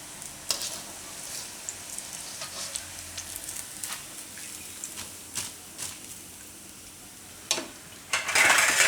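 Green chickpea bhajiya fritters bubble and sizzle in hot oil, punctuated by scattered utensil taps and stirring, ending in a louder burst of crackling; no voices.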